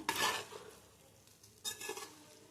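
Prawn fried rice gets stirred and tossed in a hot pan, two bursts of scraping and sizzling a second apart with a quieter frying hiss between them.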